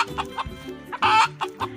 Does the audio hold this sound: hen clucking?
yes